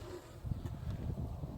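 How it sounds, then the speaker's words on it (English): Honeybees clustered on top of hive frames in spring give off a low, steady hum, faint and close, with a soft buzzing texture and no voices. "all these bees"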